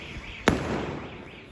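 A single sharp firework crack in a park on UK Bonfire Night, fairly distant and brief, followed by a short fading rumble over quiet background.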